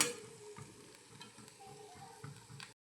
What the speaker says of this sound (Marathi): इथं आपलं तेल आता तापलेलं आहे यामध्ये आपण आपले कारले टाकून घेऊया आपल्याला हे कारलं जे आहे व्यवस्थित तेलामध्ये परतवून घ्यायचं आहे